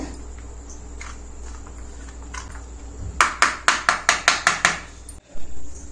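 A dried mango seed scraped across a carrot grater: after a quiet hum, about eight quick, sharp rasping strokes in a steady rhythm, close and fairly loud, followed by a dull knock.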